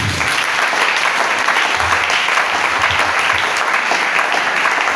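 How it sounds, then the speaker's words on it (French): Church congregation applauding during a worship seminar, a dense, loud, steady wash of clapping from many hands throughout. "Acclame Jésus"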